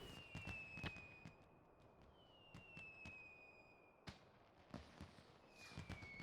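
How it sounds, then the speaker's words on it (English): Fireworks burst in Final Fantasy XIV, giving a string of sharp, moderately loud cracks and pops at irregular intervals, with whistling streaks rising between the bangs. "And there's the fireworks."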